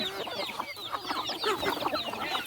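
Hens and chickens cluck busily at a village poultry yard in Thailand, dense overlapping calls and chirps going on throughout with no talking.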